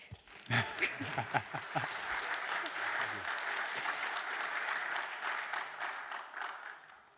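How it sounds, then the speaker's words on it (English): Sustained applause from a conference audience, dense steady clapping filling the room for several seconds, with a few brief voices and chuckles near the start. "Thank you, and welcome our experts. By clapping."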